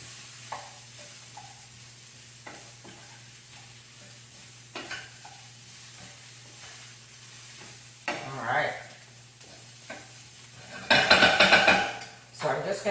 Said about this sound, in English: Let's give that a stir. And I just want to toast those spices a little bit.